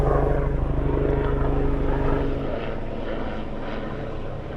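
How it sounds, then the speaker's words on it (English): A loud aircraft drones overhead, a deep engine rumble that gradually fades as it passes, with no voices. "Loads of aeroplanes coming over."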